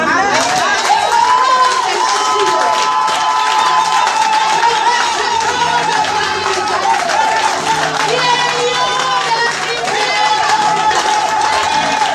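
A church congregation at a Sunday service acclaims and cheers together, with a continuous loud wash of voices, shouts and clapping throughout and a leading voice rising above the crowd.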